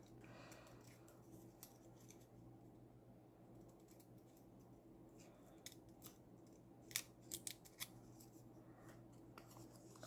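Scissors snip through paper cutouts for a glue book, faint scattered clicks and short cuts against a quiet hum, growing a little busier toward the end.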